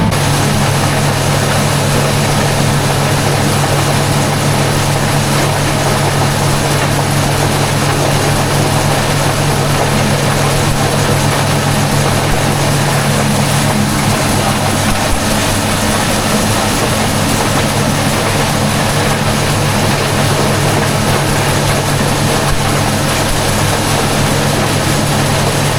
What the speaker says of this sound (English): They're getting used to seeing the grinder.